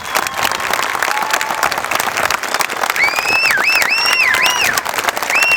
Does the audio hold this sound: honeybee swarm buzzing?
no